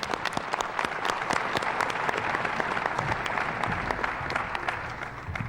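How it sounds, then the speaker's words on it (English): Audience applause for contestants at a state geography bee final, dense, sharp handclaps forming a steady roar that continues for several seconds and tapers slightly near the end. "Let's give them a round of applause again."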